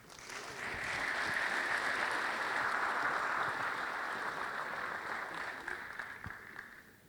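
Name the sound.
audience applause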